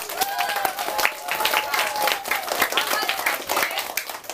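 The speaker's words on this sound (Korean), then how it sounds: "박수 보내주세요" A classroom audience applauds the winning side of a student debate with a full, continuous wash of clapping lasting several seconds, while a few voices call out over it.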